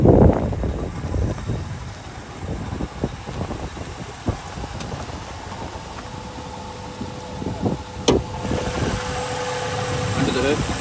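A 2011 Ford Fusion Sport with an all-wheel-drive V6 and automatic transmission idles nearby in a low, steady hum, with scattered clicks and bumps over it and a person talking throughout.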